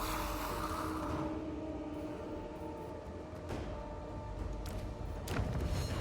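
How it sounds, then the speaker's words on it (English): Steady rumbling train noise from a video game strategy campaign, a continuous low mechanical roll with occasional thumps and clanks, fairly loud and even throughout. "What kind of train do we even have here?"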